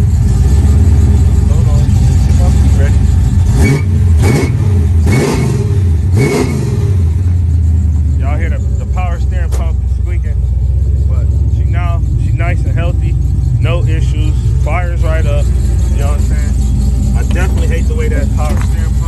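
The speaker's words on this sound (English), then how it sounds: "Let me go hit that gas for y'all one time." A Kg Landau car engine is revved hard several times, a deep, loud roar rising and falling up close; the engine then settles into a steady idle while someone talks over it.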